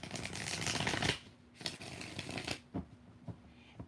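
Tarot cards shuffled by hand in a few quick riffling bursts, loud at first and then shorter rustles with pauses between, close by and without talk.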